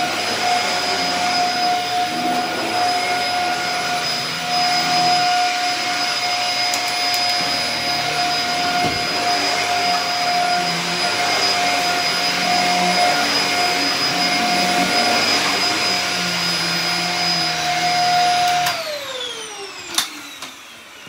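A Dyson vacuum cleaner motor runs close and loud with a steady high-pitched whine, then spins down near the end, leaving a brief clatter.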